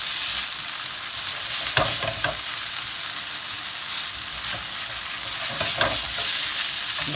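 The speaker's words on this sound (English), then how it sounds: "We're just frying these off until it's nice and hot." Chicken sizzling and frying in a hot pan while a Mexican burrito filling is cooked, a steady broadband hiss throughout with a few sharper crackles and stirring scrapes, close and fairly loud, no talking.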